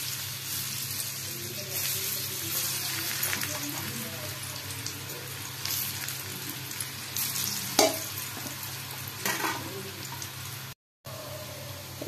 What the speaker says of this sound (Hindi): एबे रखिथिबा कट्टा बेसन को पकाई भाजी नबा तेल रे।